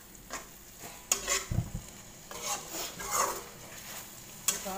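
A wooden spoon or spatula stirs clams sautéed with spices and lime leaves in a pan, scraping in irregular strokes over a soft, steady sizzle, with a few sharper clinks against the pan.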